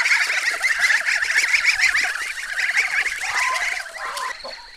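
A flock of geese and other poultry honk and cackle continuously at close range, a dense, busy chorus that thins slightly near the end.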